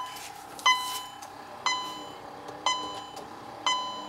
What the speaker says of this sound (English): As long as I turn that damn buzzer back on.